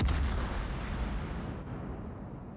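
Warship guns booming in a World of Warships-style naval battle game, a heavy sustained roar of artillery fire that starts loud and slowly rolls off over a couple of seconds.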